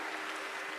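Audience applause at a Maha Kumbh religious gathering, a faint, even wash of many clapping hands with no break, heard briefly.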